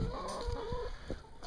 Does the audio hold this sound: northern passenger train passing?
no